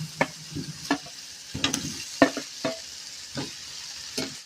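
Fried potatoes are stirred into sizzling ground coriander and Kashmiri red chili powder in a pan for egg curry, making scattered scraping stirs over a faint, close sizzle, without talking.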